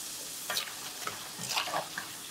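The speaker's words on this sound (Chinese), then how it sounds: "锅中油温继续升高，放入土豆条，" Potato strips dropped into hot oil for a second deep-fry, giving a steady close sizzle and crackle with a few louder bursts as the oil bubbles.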